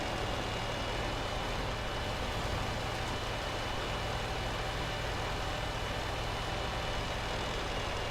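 Engine of an IS heavy tank in World of Tanks, a steady low rumbling drone with no change in pitch as the tank drives along, heard alone with no talk.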